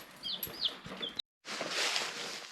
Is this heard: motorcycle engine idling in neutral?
no